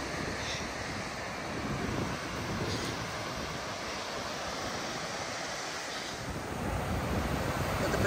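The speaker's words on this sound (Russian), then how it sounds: "Здесь туман, но тепло. Песочек, Тихий океан." Pacific Ocean surf on a foggy sandy beach, a steady wash of breaking waves with wind buffeting the microphone throughout, swelling slightly near the end, with no voices.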